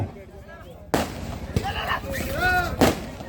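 Firecrackers go off at a kabaddi semifinal in Jaipur, Chogan Club against Nagaur Club: three sharp bursts, spaced about a second apart, crack over ongoing commentary voices.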